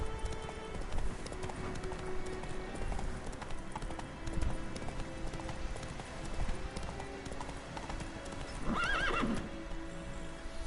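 Roach, the horse in The Witcher 3, gallops with steady clip-clopping hooves throughout, then lets out a loud, clear neigh near the end over a busy game background.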